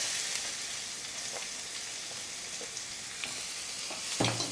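Onions sizzle in hot salted oil for besan curry, a steady crackling fry with a few small pops and a clink of stirring near the end.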